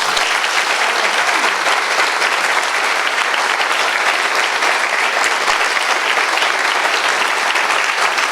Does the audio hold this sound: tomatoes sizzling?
no